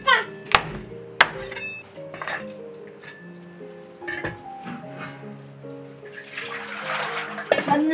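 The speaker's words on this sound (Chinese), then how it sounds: "冷水下锅焯焯水" Cold water is poured into a cooking pot over lamb ribs to blanch them in a home kitchen, a broad rush of pouring with sharp clinks of metal cookware near the start and a voice talking throughout.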